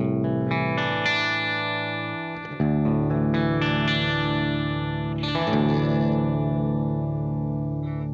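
Clean electric guitar played through a Matchless/Vox-style 2x12 combo amp with no pedals, sustained chords ringing out loud and close with a brief pause near the middle, no talking.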